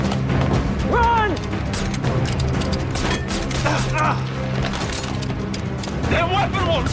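Weapons fire in a tense television drama scene, a burst of sharp gunshots and crashing impacts mixed with clanking mechanisms, with people talking and shouting over the noise.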